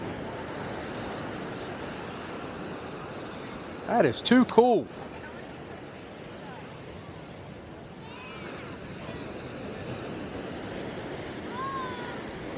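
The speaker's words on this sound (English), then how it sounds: "Those waves breaking, man, don't you love it?" Steady surf rumbles throughout at Surfside Beach pier, with a brief burst of voices in the middle and a man's short remark over the constant wash of waves.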